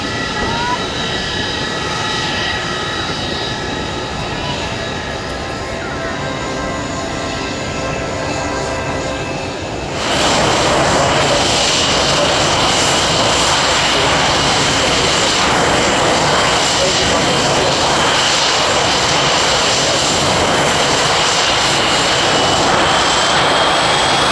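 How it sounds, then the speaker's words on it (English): Spitfire 9 and Spitfire 17 warbirds flying at the Royal International Air Tattoo 2015, a steady loud propeller engine roar with the fuller sound of a close pass rising sharply about halfway through. "Spitfire 9, and John Beatty, Henry's Aviation, Spitfire 17"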